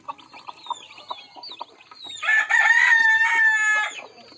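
A mother hen clucks near chicks that hatched that morning, giving short rhythmic clucks and then a longer, louder drawn-out call. Thin chick peeps sound close by.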